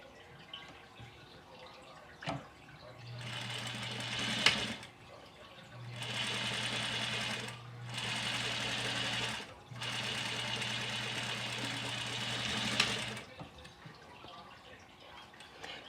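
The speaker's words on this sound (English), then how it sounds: "I am going to top stitch." A sewing machine top stitching a fabric face mask runs in three close, loud bursts of steady whirring stitching, separated by short pauses and a few clicks.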